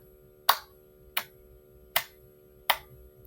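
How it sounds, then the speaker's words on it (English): Four sharp, evenly spaced hand claps, each a crisp isolated smack about 0.7 seconds apart, heard fairly close in a quiet room with faint low background hum. "Simon says clap 5 times"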